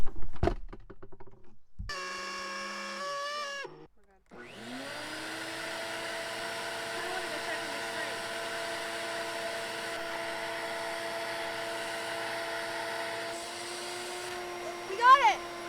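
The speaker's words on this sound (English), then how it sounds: "That noise is not gonna work for me, vacuum cleaner." A steady motor whine with a tonal hum runs continuously after a few short starts and stops, fairly loud and unbroken until the end.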